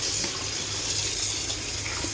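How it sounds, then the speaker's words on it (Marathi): Tap water runs steadily into a sink while one kilogram of raw chicken is washed for a Malvani chicken curry, a continuous close splashing rush with no pauses. "ते चिकन आपण धुवून घेऊया."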